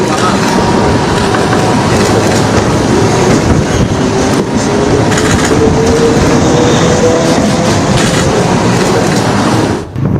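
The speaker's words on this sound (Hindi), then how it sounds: "उसी पुल से ट्रेन गुजर रही है" A train crossing a newly inaugurated bridge at night, a loud, continuous rumble with rhythmic clickety-clack of wheels over the rails throughout, cutting off abruptly at the end.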